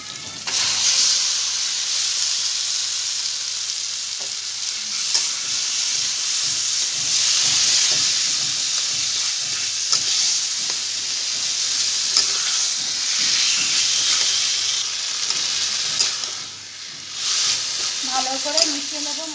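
Drained taro leaves dropped into a pan of frying masala with prawns and stirred, producing a loud, continuous steamy sizzle and hiss with repeated scraping stirs throughout, no one speaking.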